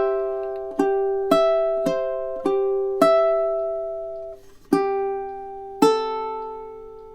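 Fingerstyle ukulele plays two measures of a gentle, relaxing melody, about nine plucked notes and chords ringing out clearly with sustained decay, steady and unhurried, solo and close without any talking.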